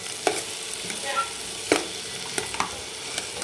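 Potato pieces sizzle in a pan as a spoon stirs them, a soft frying hiss broken by a few sharp scrapes and clinks.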